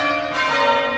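Church bells ring in a stage production of A Christmas Carol, sounding as a loud, sustained metallic peal with rich overlapping tones that hang steadily through the moment, with no voices over them.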